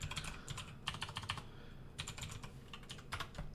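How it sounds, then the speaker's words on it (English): Typing on a computer keyboard comes through as quick bursts of close, clicky keystrokes broken by short pauses, faint and with no talk over it. "I really apologize for my typing right now"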